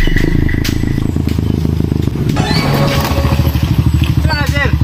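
Habal-habal motorcycle taxi engine running close by, a loud steady putter with rapid regular firing pulses and rattling clatter, with voices talking over it.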